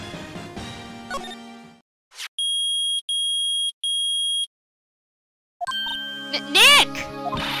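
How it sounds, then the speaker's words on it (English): A metal detector in the Phoenix Wright: Ace Attorney video game sounds three loud, evenly spaced electronic beeps, each a steady high tone, set between stretches of game music and chimes. "It's beeping! The metal detector's found something."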